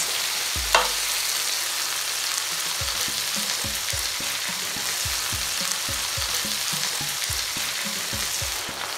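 Tomatoes frying in a pan for Italian spaghetti puttanesca sauce, a steady close sizzle with a sharp clatter at the start, then a regular run of spoon strokes and scrapes against the pan, no speech.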